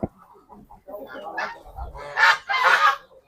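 Turkey chicks and chickens cheep and cluck in a small backyard pen, a few short calls rising to louder squawks near the end, with faint talk underneath.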